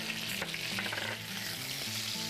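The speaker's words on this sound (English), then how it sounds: "I'm going to place it inside the bacon and allow it to cook together." Shrimp frying together with bacon in a pan for seafood mac and cheese, a continuous close crackling sizzle with light scraping and clatter from stirring, no voices.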